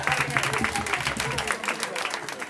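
Audience applause and cheering at a venue during a live music show, steady dense clapping filling the room with a crowd murmur underneath.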